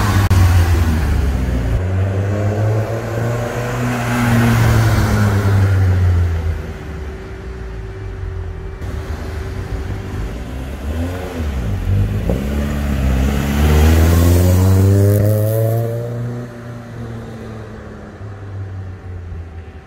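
A 1965 Ford Cortina GT500 engine revs up and down in several swelling bursts, climbing to a loud peak, dropping back to idle, then rising again, close by with no talk.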